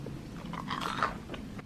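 A few crisp crunching bites and chews of French toast sticks up close, irregular and fairly quiet, with no talking.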